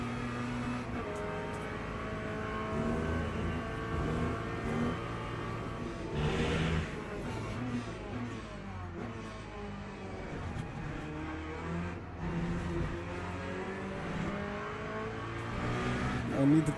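LMP2 prototype race car engine in a racing video game, droning and revving steadily at close range for the whole stretch, with pitch sweeps as it shifts, under occasional background talk.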